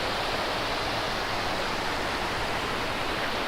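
Two stretches of the Umpqua River meet and flow together, making a steady, unbroken rushing wash of water close by with no voices.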